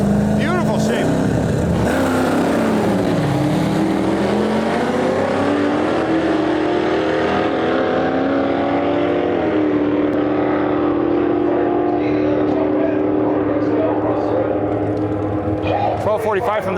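Stick-shift Firebird drag racing a Corvette down a dragway strip, engines roaring loud and continuous with rising and falling revs, a commentator talking over the racing noise throughout.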